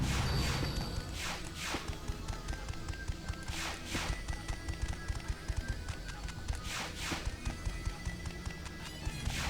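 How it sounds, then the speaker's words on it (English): Hotsuma's quick footsteps patter in the video game Shinobi, a light rhythmic run of taps and clops over busy music and game ambience, moderately loud and steady. "I really love Hotsuma's little footstep sounds."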